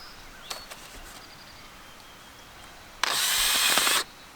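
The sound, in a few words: power drill drilling holes for plants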